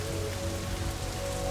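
Heavy rain pours during Taiwan's rainy season, a dense, constant hiss of drops beating on surfaces with no pauses and no voices.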